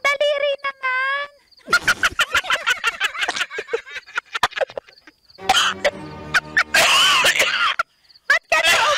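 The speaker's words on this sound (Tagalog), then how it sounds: "Ba't ka naubo?" A person coughs in a short burst of harsh barks amid lively Filipino conversation, with voices talking close before and after the coughs.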